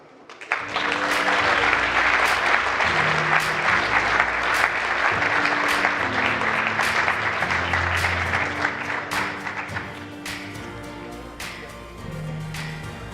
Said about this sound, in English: please give all of our prize winners another round of applause